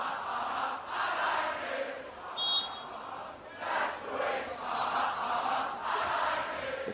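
Beach volleyball fans cheering at the 2019 Gstaad 5-star final, Mol/Sorum against Brouwer/Meeuwsen: a large outdoor crowd roars and whoops in repeated swelling waves, with bright shouts and whistles rising over the sustained noise.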